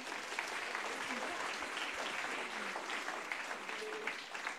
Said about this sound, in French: On peut les applaudir parce que ça a été difficile.